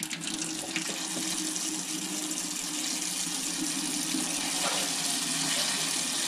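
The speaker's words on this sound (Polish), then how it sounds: "Jest woda w kranie" A tap runs steadily on a forest property where water is being piped to a terrace, a constant broadband splashing hiss at moderate level that stays unbroken throughout, with no speech.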